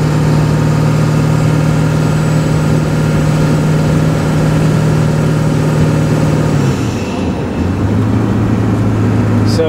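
A Ford 7.3 liter diesel engine runs steadily at light throttle, a loud, close, continuous drone with a steady hum that dips briefly and then settles at a lower pitch near the end.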